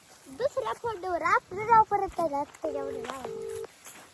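A few short electronic phone dialing tones sound near the end, following a stretch of close talking.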